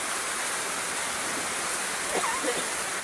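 Steady rain pours outdoors as an even, dense hiss that stays loud throughout, with a faint voice briefly audible beneath it.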